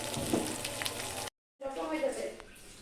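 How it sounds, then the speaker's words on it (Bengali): Big puti fish frying in a pan makes a steady close sizzle and hiss. The sound drops out briefly partway and then returns, with a voice talking faintly over it. "আমার মাছটা বেশ সুন্দর করে ভাজা হয়ে গেছে"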